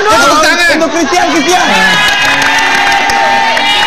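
A studio audience at an Indonesian TV variety show claps and cheers, a loud dense crowd noise with whoops, while a host's voice carries over the top.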